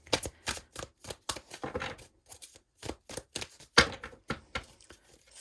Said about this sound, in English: Let me pull out another card here on the connecting energies.